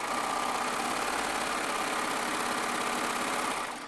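A Baby Lock Triumph serger runs at speed, a loud, steady, dense mechanical whir held for several seconds before easing off at the end.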